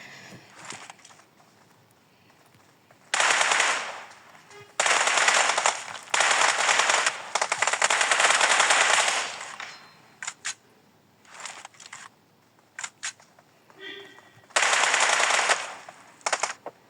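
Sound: gunfire in video game PUBG Mobile

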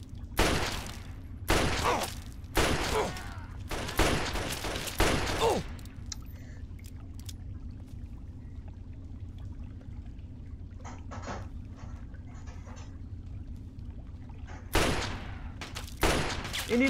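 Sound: gunfire in the video game Fallout 3

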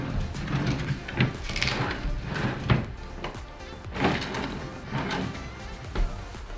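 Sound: wooden dresser drawers opened and closed

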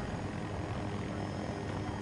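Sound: helicopter flying in Battlefield 2042 video game

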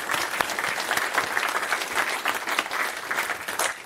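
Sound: audience applause

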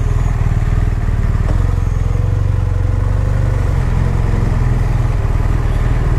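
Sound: BMW R1200R motorcycle on a test ride

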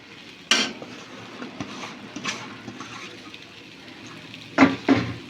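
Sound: stirring semolina with grated coconut in a pan

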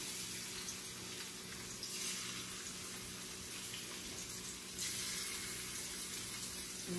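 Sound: salmon searing in a hot pan

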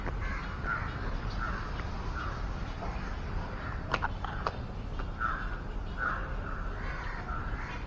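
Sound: crows cawing in a nature park

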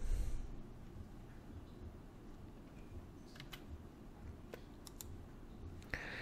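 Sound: computer mouse clicking in installer program

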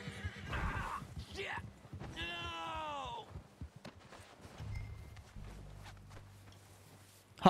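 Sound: horse neighing and hooves in Red Dead Redemption 2, a video game

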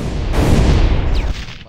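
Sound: Explosion Quirk blast, My Hero Academia Final Ember video game

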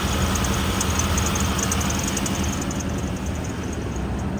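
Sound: 2000 Isuzu Rodeo 3.2 liter engine running

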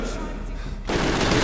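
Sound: machine gun fire in Medal of Honor Warfighter video game

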